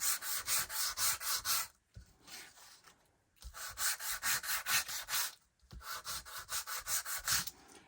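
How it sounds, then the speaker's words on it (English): Sanding block with 80-grit paper rubbed back and forth across cardstock, making quick scratchy strokes in steady rhythmic runs with brief pauses between, close and fairly quiet, with no talk. "take this and rub it back and forth across here to get some of that white core to show through in lines"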